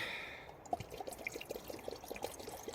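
Water poured outdoors in the woods to boil for tea, a soft trickling pour followed by a string of quiet drips and splashes, faint and close with no talking.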